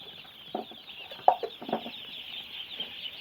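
Young Khaki Campbell ducklings on a duck farm in Assam give short chirps and peeps, scattered and fairly faint over a steady background hiss, with a few louder calls close by.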